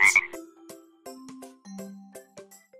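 In the Kiddopia kids game, a cartoon frog gives a brief high chirp, then a run of about seven quick, close croaks in a bouncy rhythm, each a little lower than the last, with no talk.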